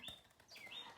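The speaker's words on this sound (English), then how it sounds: "Where the hell is this bird? It might as well be in the room with me, honestly." A bird chirps outside a window in short, high, sweeping calls. It sounds faint and slightly distant against a quiet indoor background.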